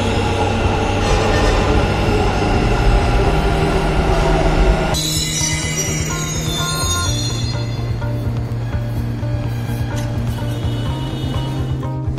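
Bangalore metro train at a metro station, with a steady low rumble, rising wheel and motor whine and a brief squeal as the cars move along the platform, loud and close, with no one speaking.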